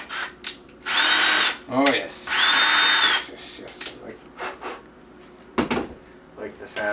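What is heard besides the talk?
18-volt power drill drilling a hole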